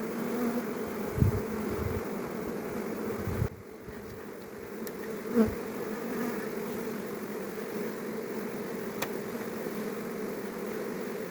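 Close, steady buzzing of many honeybees, a continuous droning hum with a few brief bumps and clicks, no voices.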